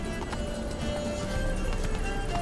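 Roach, Geralt's horse in the video game The Witcher 3, gallops steadily with a continuous rhythmic clip-clop of hooves, loud and close, with no talk over it.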